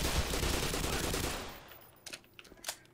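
Automatic weapon fire in the Black Mesa video game, a dense continuous burst that fades out after about a second and a half, followed by a few scattered sharper impacts.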